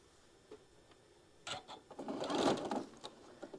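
A sewing machine stitching quilt pieces starts with a few soft clicks, then runs in a fast, rattling burst that builds and fades, heard close and without talk.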